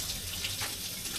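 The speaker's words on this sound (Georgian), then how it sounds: "დავასხით წყალი" Water is poured from a tap into a pot of broken bread, making a continuous, close gushing splash throughout the brief moment, with no voices.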